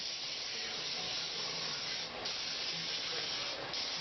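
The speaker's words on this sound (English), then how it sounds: "I just need to spray it again." A nearly empty can of cooking spray releases a steady, continuous pressurized hiss for about four seconds, close and even, with brief dips in the flow.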